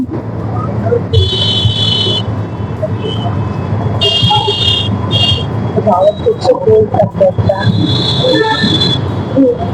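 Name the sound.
traffic jam with horns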